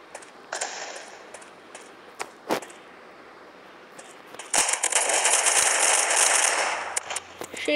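A grenade blast in the video game Mask Gun bursts into a sustained roaring crackle lasting a couple of seconds, preceded by scattered sharp gunshots against a quiet background.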